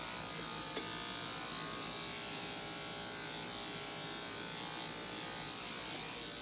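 Electric pet clippers buzz continuously while trimming the fur at the base of a dog's tail, a close, steady motorized hum with only slight shifts in pitch as the blade moves through the coat.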